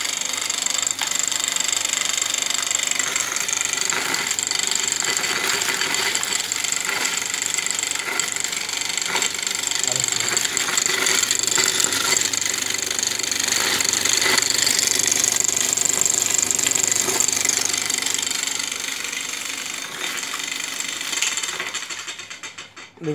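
A homemade flour mill runs steadily with a dense, continuous mechanical clatter and rattle, loud and close, holding level before easing slightly near the end.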